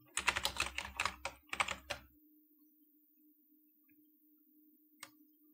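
Quick bursts of typing on a computer keyboard clatter close by for about two seconds, then stop, leaving a faint hum and one more lone keystroke.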